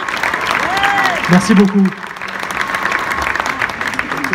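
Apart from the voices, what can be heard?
audience applause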